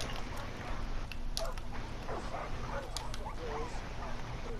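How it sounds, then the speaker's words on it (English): Several dogs barking and yipping in the video game Far Cry 5, with scattered close barks and whimpers over a constant low game rumble, and a voice talking faintly underneath. "are there so many fucking dogs"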